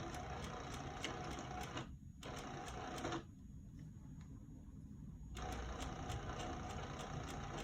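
A sewing machine stitches a lined zip pouch in rapid, even runs, pausing briefly twice before resuming, close and steady with no voices.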